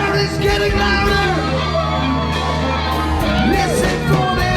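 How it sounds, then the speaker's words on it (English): A concert crowd at a summer outdoor series shouts and cheers steadily, loud and close, with whoops rising over a dense roar of voices that continues throughout. "And the crowd is getting louder."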